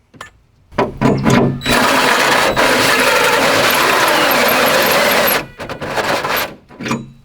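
A power drill runs loud and continuous for several seconds while working on a Honda hood install, a sustained buzzing whine with short starts and stops at either end.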